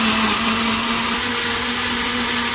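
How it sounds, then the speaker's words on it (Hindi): A blender grinds apricots with sugar and milk into a milkshake, a loud, steady motor whine with churning liquid throughout, close up and without talk. "चले इसे मैंने एक मिनट तक ग्राइंड कर लिया।"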